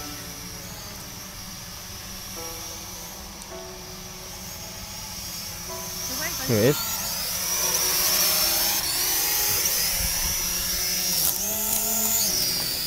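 A small drone flies near a WW2 bunker in Kent, giving a steady high-pitched motor whine that runs throughout at moderate distance over outdoor background noise, with a few brief spoken words.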